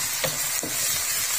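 Tomatoes, green chillies, ginger and garlic fry together in a pan, an even close sizzle with two brief scraping stirs, no speech.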